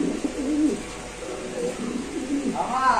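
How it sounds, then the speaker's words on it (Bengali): A male Indonesian show king pigeon coos close by in a run of soft, throaty, rolling coos, with a faint voice in the background. "নরের ডাকটা একটু দেখাই দিই আপনাদের"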